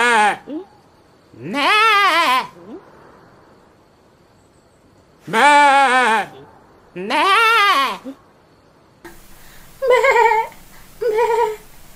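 Sheep and goats bleat in a series of loud, wavering calls, six separate cries in pairs with quiet gaps between, the last two sounding thinner and more distant.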